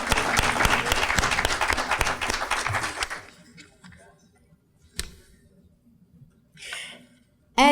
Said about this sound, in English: Let's give Coopers Point another round of applause.